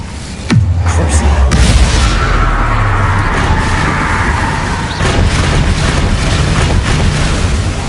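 Incendio fire spell cast in the Hogwarts Legacy video game: a sharp booming onset followed by a sustained roaring, crackling rush of flame that stays loud for several seconds.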